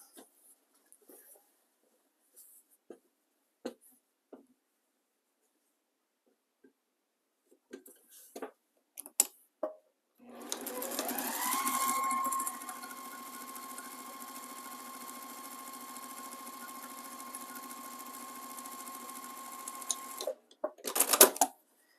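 A sewing machine stitches quilt rows in one long steady run of about ten seconds, with a rising whir as it speeds up, after scattered small clicks and handling taps.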